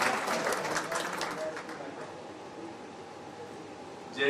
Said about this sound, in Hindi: प्लीज विवेक जी एक बार जोरदार ताली से विवेक जी का स्वागत।